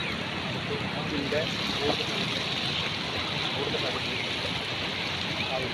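Floodwater surges across a broken road near a gurdwara, a steady, loud rushing wash of fast-flowing water throughout, with faint voices in the background.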